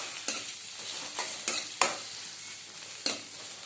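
Cumin, mustard seeds, green chillies and onions sizzle softly in hot oil, a faint steady hiss broken by a few sharp stirring scrapes and pops.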